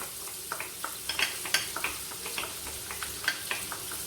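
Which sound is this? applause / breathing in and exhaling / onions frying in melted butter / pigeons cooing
onions frying in melted butter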